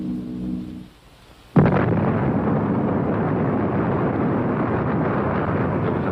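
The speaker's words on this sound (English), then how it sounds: "the atom bomb was dropped" Atomic bomb explosion over Hiroshima: a sudden loud blast after a moment of near silence, followed by a long, sustained roaring rumble that does not fade.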